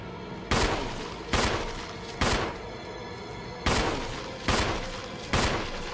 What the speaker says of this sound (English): Let's see if we can just kill this guy with a regular handgun.